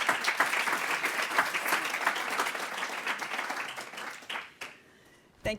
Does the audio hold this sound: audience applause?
yes